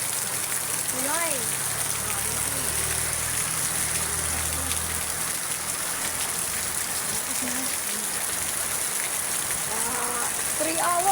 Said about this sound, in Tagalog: Ang ulan, oh. May low pressure area dito sa Cavite, oh.